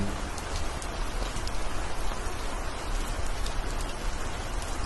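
Heavy rain pours steadily with a dense, continuous hiss of drops striking surfaces, loud and unbroken throughout with no voices.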